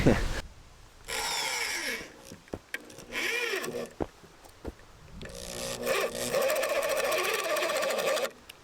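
An electric drill whirs in several bursts, starting and stopping, with sharp clicks and knocks between runs, while building a wood kiln; the drill burns out.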